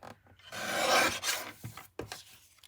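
A paper trimmer cuts card stock down to A2 card size, making a rasping, scraping slide that rises and then stops, followed by a couple of short clicks and taps. The sound is close and fairly quiet, with no talk.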